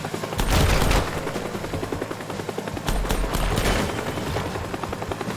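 Gunfire in the video game Teardown: dense bursts of rapid shots and booming impacts, loud and continuous, with a heavy low rumble underneath and sharp cracks spiking out around the start and middle.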